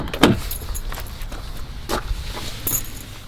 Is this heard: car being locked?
yes